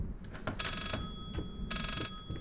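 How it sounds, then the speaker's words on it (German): An old telephone rings twice in Layers of Fear, two bright, clanging bursts about a second apart over a low rumbling background, close and clear with no voices. "Ich höre hier noch ein Telefon."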